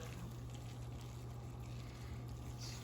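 Hot boiled water, just off the stove, pours steadily into a pot of vegetable stew, a continuous low gushing wash that holds at a constant level for the whole stretch with no talk over it.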